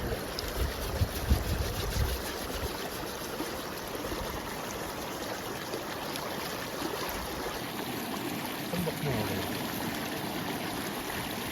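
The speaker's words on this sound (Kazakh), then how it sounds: "өзенге бас жуып жатырмыз" A river flows steadily while lamb heads are washed in it outdoors, giving a continuous close rushing trickle with a few low splashy knocks early on and no talk.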